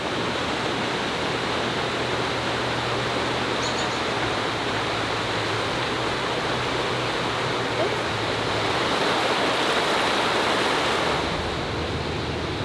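A river flows steadily beside a KOA campsite at the Herkimer Diamond RV resort, producing a continuous broad rushing wash with no breaks, fairly loud and close, alone without talk.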